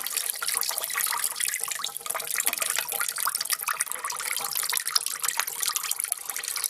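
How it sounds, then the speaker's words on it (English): Engine coolant pouring steadily out of a Yamaha Wolverine utility vehicle near the thermostat housing, a continuous close splashing trickle of liquid like a running tap, holding an even level with no talk. "So just let this finish draining, because this right here is the thermostat housing."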